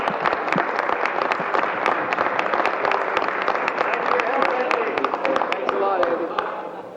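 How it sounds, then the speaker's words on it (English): Members of a provincial legislative chamber applauding during question period, sustained crowded clapping and desk-thumping with voices murmuring beneath, easing off toward the end. "I thank the honourable members for the applause."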